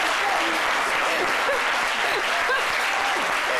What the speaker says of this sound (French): applaudit